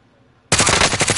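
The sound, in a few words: gunfire in Call of Duty Warzone video game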